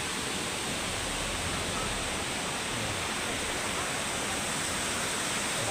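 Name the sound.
waterfall at Nagsipit Falls, Casiguran, Sorsogon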